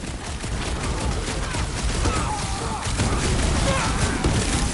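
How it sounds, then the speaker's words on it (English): Sustained, dense gunfire crackles through a rooftop firefight in the Guardians of the Galaxy video game, with loud overlapping shots and thuds that continue without a break for the whole stretch. "Running and gunning on rooftops!"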